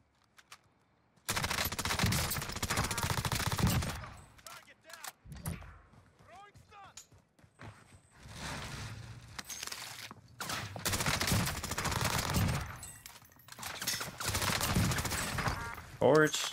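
Rapid automatic gunfire from an OTs 9 submachine gun in Call of Duty: Cold War Warzone on Rebirth Island, loud close bursts repeating across the clip with short gaps between them.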